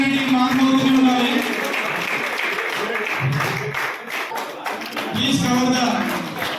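An audience at an alumni reunion gathering claps in a burst of applause, fading partway through and then picking back up, with voices talking over it.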